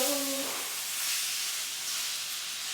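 Chicken pieces sizzling in butter in a hot pan, a bright steady hiss that settles in just after a brief tonal sound at the start, close and even.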